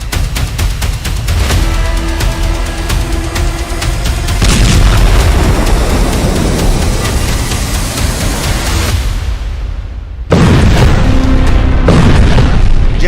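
Deep booming blasts from bombs and rockets striking Beirut in war news footage, loud rumbling explosions rolling one into another, with a brief cut to near silence before another heavy boom continues.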